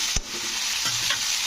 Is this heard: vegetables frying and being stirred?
yes